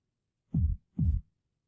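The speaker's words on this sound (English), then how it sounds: "A heartbeat?" Two deep, muffled heartbeat thumps in a slow lub-dub pattern, close and isolated against silence.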